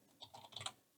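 Quick burst of keystrokes on a computer keyboard, a handful of soft clicks over about half a second, close and fairly quiet with no talking.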